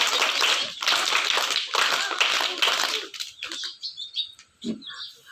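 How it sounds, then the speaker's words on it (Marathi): School children clap together in congratulation at a Zilla Parishad primary school, a burst of loud, close claps for about three seconds, followed by scattered taps, chirpy noises and a few faint voices. "आता सार्थकचं आपण सगळेजण 3 टाळ्या वाजवून अभिनंदन करूया"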